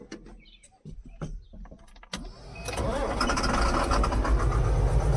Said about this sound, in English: So now we're gonna start this tractor up and get the pumps rolling